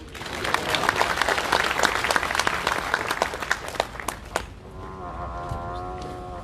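At the Botswana Sport Awards, an audience gives a lively round of applause for the Vice President, with dense clapping that thins out and fades after a few seconds into quieter hall sound with a voice.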